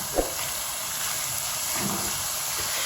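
Gram flour roasting in a pan for methi matar malai masala, giving a steady low sizzle and hiss throughout with a couple of faint scraping stirs, close and alone.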